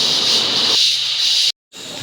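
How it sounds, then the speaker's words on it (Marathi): A pressure cooker on a home stove vents steam in a loud, bright hiss that drops partway through, cuts off briefly, then resumes. "नंतर मग आपण कुकरमध्ये लावून 2-3 शिट्ट्या घेऊ"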